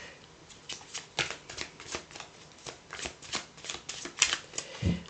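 Tarot cards are riffled and shuffled by hand in quick, crisp bursts of papery flicks, close and clear, ending with a soft knock as the deck is cut.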